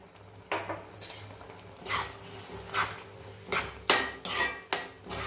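A spoon scrapes and clatters around a pot of poori masala as it is stirred after salt goes in, giving a series of irregular metallic scrapes and knocks, close and moderately loud, with a low steady hum beneath.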